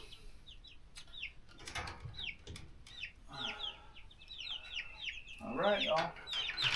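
Nankin bantam chickens cluck in repeated short bursts close by, with a rooster-like call and some wing flapping among farmyard noise, under brief talk.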